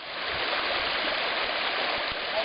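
A river near the Maryanchyn waterfalls in the village of Maniava rushes with a steady, dense roar of flowing water, close and constant for the whole stretch.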